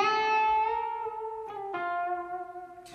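Electric guitar notes bent up a tone and a half: a sustained bent note, a brief break, then a second held bend ringing out alone and fading.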